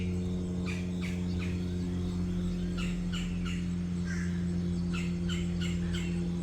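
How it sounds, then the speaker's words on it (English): High in a tree, an unseen bird calls repeatedly in short, scattered chirps, faint and distant over a steady droning hum and insect-like background. "some other bird, which I also can't see, is in this tree yelling at it"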